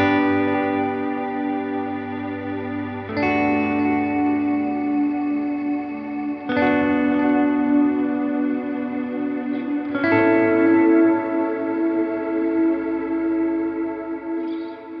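Electric guitar chords played through a Line 6 Helix with delay and reverb ring out, four strums spaced a few seconds apart, each trailing into repeating echoes and a long sustained wash.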